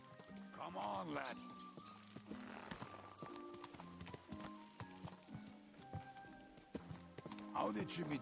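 Horse hooves clip-clop steadily on the ground in the video game Kingdom Come: Deliverance 2, close and moderately loud, mixed with game music and voices talking over them throughout.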